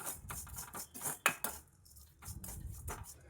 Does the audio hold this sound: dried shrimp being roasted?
yes